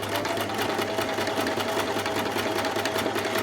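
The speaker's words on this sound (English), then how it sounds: "And then I move on to sewing at normal speed" A sewing machine fitted with an edge joining foot stitches lace to a fabric panel at normal speed, a steady, fast mechanical whirr with rapid rhythmic needle clatter, close and continuous with no talking.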